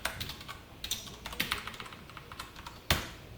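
Quiet computer keyboard typing while entering a SQL query for a MariaDB database, with scattered soft key clicks and one sharper keystroke near the end, no voices.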